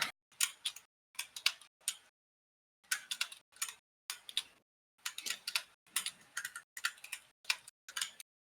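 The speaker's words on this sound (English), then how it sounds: "That's why you hear furious typing occasionally from my end." Bursts of rapid, furious typing on a computer keyboard come in short clattering runs separated by brief pauses, crisp and close.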